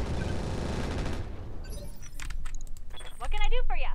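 Mech weapons in the game Roguetech fire in a dense, noisy burst that breaks off into scattered clanks and metallic clatter, with game voices chattering at the end.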